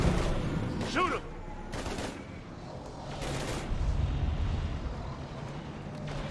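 Gunfire against husks in Mass Effect 3 during a Reaper invasion: a few loud, booming shots and blasts spread through the moment, amid rumbling battle noise.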